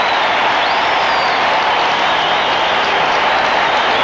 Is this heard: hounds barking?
no